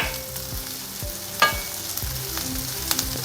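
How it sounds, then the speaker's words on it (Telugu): Sliced onions with green chillies, urad dal and tempering spices sizzle steadily in hot oil in a pan, a continuous close crackle with a few sharp pops and stirring scrapes, no talking. "వేగుతున్నాయి కదండి ఉల్లిపాయలు"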